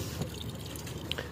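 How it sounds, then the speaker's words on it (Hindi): Water dripping after a tap is shut off at a rooftop pigeon loft, a faint, sparse patter of a few drops against a low background hiss. "मैं ज़रा पानी बंद कर लूँ"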